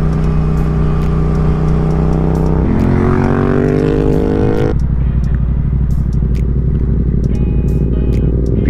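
A Yamaha XSR700 motorcycle engine idles with a loud throbbing rumble, revs up sharply mid-clip, then drops back to a rough idle; close by, no voices.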